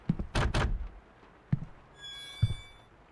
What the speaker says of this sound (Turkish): Sonra galiba kapı açacak.